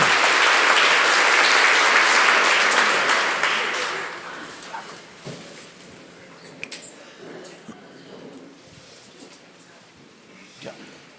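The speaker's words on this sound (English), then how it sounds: "Let's give them a round of applause, guys." Audience applause at an annual dealer conference awards session, a loud dense burst of clapping for about four seconds that fades into scattered claps and room noise.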